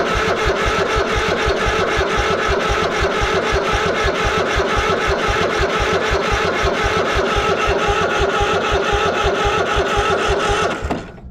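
A Craftsman lawn mower engine cranks steadily and fails to catch, with a fast, even chugging rhythm that runs loud and close for about eleven seconds and then cuts off.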